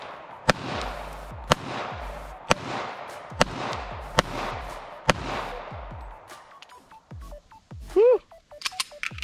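Seven sharp pistol shots from a Smith & Wesson 1911 at an outdoor range, fired at an even, steady pace with ringing echo, then brief talk afterward.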